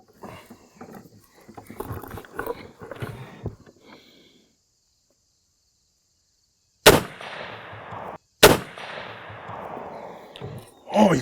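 Two booming .50 caliber rifle shots fired outdoors a second or so apart, very loud and sharp with a rumbling tail after each, following a stretch of talk and a quiet pause.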